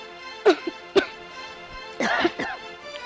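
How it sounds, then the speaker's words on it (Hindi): Several sharp coughs close by, two single barks of coughing followed by a longer rough, raspy fit. "ले, उठ गई ना खांसी तुझे"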